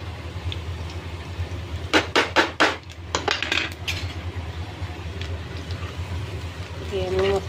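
Spices dropped into a pan of fried onions and chillies, a quick run of sharp metallic clinks and scrapes of a utensil against the pan, then a quieter steady sizzle with a voice talking.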